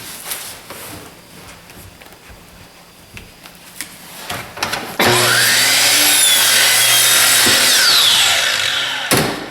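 Some light knocks and handling of a wood block, then a power saw abruptly roars into the block for about four seconds of loud, steady cutting while making sawn decorative shingles, ending sharply.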